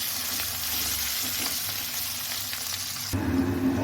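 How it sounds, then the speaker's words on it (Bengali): Potato pieces fry in hot oil seasoned with a little salt and turmeric, giving a close, continuous sizzle and crackle that holds steady throughout and briefly grows louder toward the end. "দিয়ে আলুগুলো লাল লাল করে ভেজে নেব"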